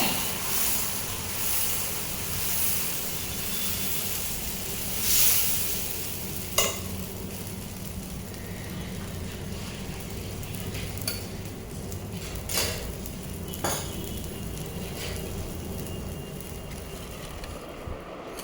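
Dosa cooking on a hot pan gives a steady, soft sizzle and scraping close by, with a few sharper clinks of a utensil against the pan along the way and no talking.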